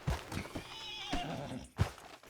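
A horse whinnies in the open-world western game Red Dead Redemption 2, a clear, close neigh with a few hoof thuds and snorts around it.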